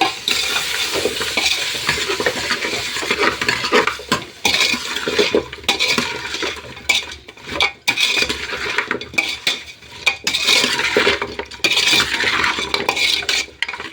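Chicken feet curry with turmeric is stirred in a pot, making loud, close scraping and clanking of a spoon against metal in uneven bursts with short pauses, with a light sizzle underneath and no talking.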